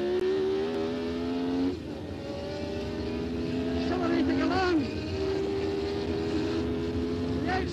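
Onboard a Formula 1 car, the engine screams at high pitch and climbs through the revs under acceleration, with brief gear-change dips and a steady rising whine, loud and close, while a commentator talks over it.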